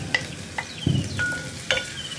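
Lentils fry briefly in ghee inside a pressure cooker, with a few sharp spoon scrapes and clinks against the metal over a soft, quiet sizzle.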